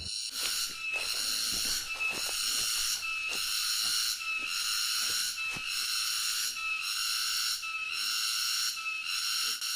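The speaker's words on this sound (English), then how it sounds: "Do you hear how freaking loud these birds sound?" Loud, shrill bird calls fill the air nonstop, pulsing in a steady repeating rhythm, with no talking.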